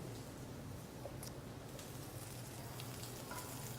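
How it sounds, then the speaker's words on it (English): Steady sizzling of mirepoix with onions frying in hot fat, a continuous crackling hiss with no voices. "There's that nice sizzle when we put that in."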